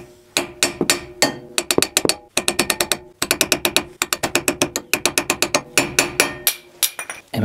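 Rapid ratcheting clicks from a hand ratchet working on the small cap at the rear wheel hub of a Renault Twingo during a rear wheel bearing change, heard in close, loud bursts of quick evenly spaced clicks with brief pauses between strokes.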